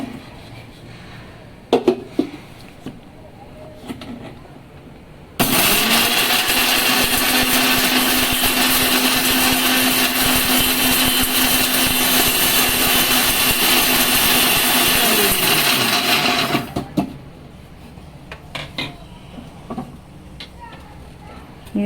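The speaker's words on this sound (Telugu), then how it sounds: "ఉప్పు, చింతపండు, తెల్లగడ్డలు అన్నీ వేసి దీంట్లోనే తిప్పుతాను" An electric mixer grinds salt, tamarind and garlic into a masala karam, roaring loudly for about eleven seconds before cutting off, with clicks and handling noises before and after.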